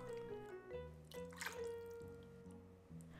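Beef soup broth is poured over soaked glass noodles for a Korean spicy beef stew, a faint close trickling and dripping of liquid with a soft tonal ring, with no talking.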